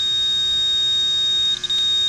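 A multimeter's continuity beep sounds across a closed low-pressure switch on an HVAC unit: a steady, piercing electronic tone that holds for about two seconds, close and loud, with a faint background hum and no voices.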